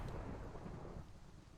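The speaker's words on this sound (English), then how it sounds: "I'm gonna figure out what we want to do with this storm." Thunderstorm in a Minecraft tornado survival game: a low, continuous rumble of rolling thunder mixed with steady rain, fairly quiet and without any talking.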